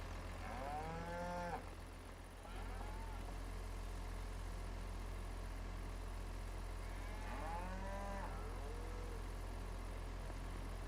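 Cows moo inside a cow shed in Farming Simulator 25, with one drawn-out low call near the start and another around the middle, set against a constant steady hum of game ambience.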